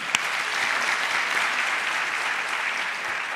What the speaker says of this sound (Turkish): Bu mücadeleye bir alkış alalım mı?